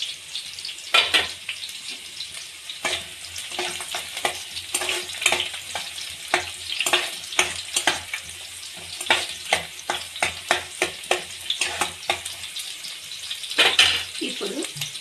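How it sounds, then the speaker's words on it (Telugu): Onions and green chillies fry in a pan with steady sizzling crackle and scattered stirring scrapes and clinks, close and fairly loud throughout, with no talking. "ఆనియన్స్ మంచిగా వేగుతుంటున్నప్పుడు రెండు పచ్చిమిరపకాయలు వేసుకోండి."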